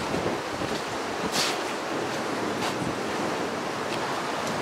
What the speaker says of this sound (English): The wind ain't doing too good actually, is it?